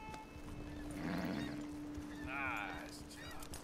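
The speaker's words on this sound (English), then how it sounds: "It's our horse." A horse in Red Dead Redemption 2 galloping, with steady hoofbeats under game ambience and a clear whinny near the middle.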